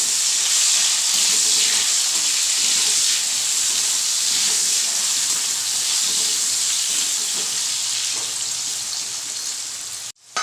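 Chopped yam stirred in hot oil with salt, giving a loud, steady sizzling hiss that fills the whole stretch, close up and continuous, ending with a brief clatter.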